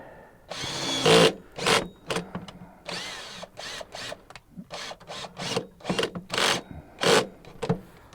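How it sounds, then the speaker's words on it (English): Repeated short bursts of a power drill whirring while drilling through a wall for ethernet cable, stopping and starting in an irregular rhythm, close by with no talking. "And now I can continue the drilling"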